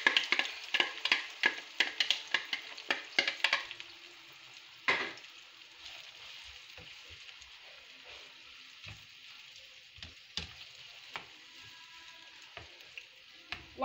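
Pepper and onion cook in a pan for a plantain frittata, with a quick burst of stirring scrapes and taps at first, then a quieter sizzle broken by scattered clinks.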